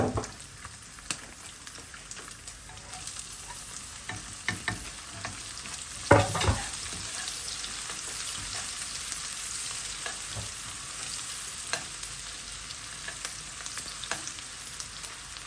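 Chorizo and onion fry in a pan with a steady, close sizzle, broken by scattered stirring scrapes and one sharper clatter partway through, with no one talking.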